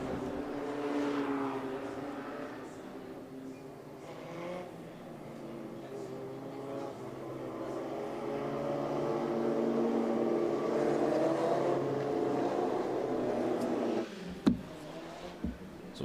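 Race car circling the track at the Trois-Rivieres Grand Prix, its engine drone rising and fading at a distance, followed by a couple of sharp knocks near the end.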